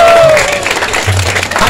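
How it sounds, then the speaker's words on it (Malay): Audience applause at a python show at a zoo, a broad wash of clapping from a crowd that stays steady and fairly loud for the whole moment, with some voices mixed in. "Bagilah tepukan sekali lagi kawan."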